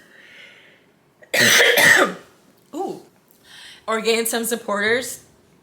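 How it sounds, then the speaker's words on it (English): Several harsh coughs and throat-clearing bursts come in uneven bursts up close, separated by short pauses, with a strained voice between them. "that cough really took a lot out of me"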